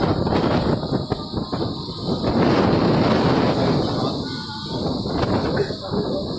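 Cyclone Yaas winds roar loudly and continuously, whipping water through the air in a storm with floodwater around, while people shout and talk over the constant rushing gusts.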